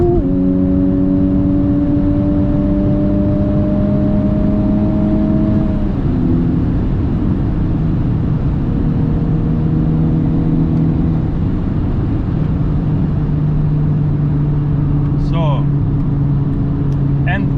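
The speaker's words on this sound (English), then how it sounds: "we will do downshifting, 4th gear, 4, full throttle" A Honda Civic Type R FK8 turbocharged VTEC engine held at full throttle, a loud steady drone with pitch shifts as it downshifts from fourth gear, continuous and close throughout.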